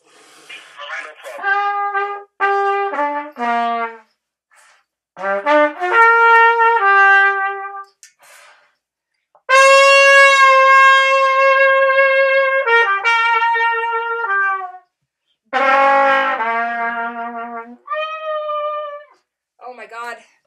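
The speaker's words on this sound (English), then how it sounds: "that guy's really bad at trumpet" A trumpet played poorly in a parking lot, with wavering, cracked notes in short bursts and one long sustained blast separated by pauses, loud and near.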